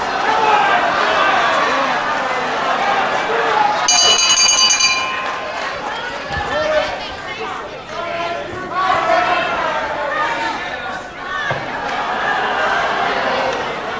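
A ring bell clangs once, briefly, to end a round of British professional wrestling, cutting through a noisy arena crowd while a commentator talks throughout.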